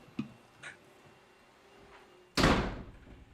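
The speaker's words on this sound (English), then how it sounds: "Hold on, let me shut this door." A door slams shut indoors with a sharp, loud thud and a brief room echo, preceded by a couple of faint knocks from handling it.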